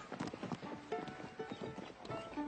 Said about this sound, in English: I'll ride with Buck